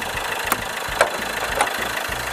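A 1.3-litre Opel Corsa ecoFlex engine runs steadily at idle with a low, even rhythmic throb and a few brief clicks, heard close and alone.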